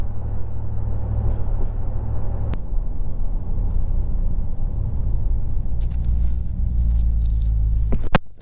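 A truck fitted with a Carven Competitor Series exhaust and K&N cold air intake rumbles to a stop on a highway, a deep steady low drone with a couple of sharp clicks, heard up close from inside.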